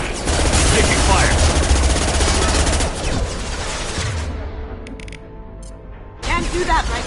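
Rapid automatic gunfire from a Mass Effect firefight rattles loud and close for several seconds, drops to a lull, then bursts in again, with shouted voices mixed into the combat.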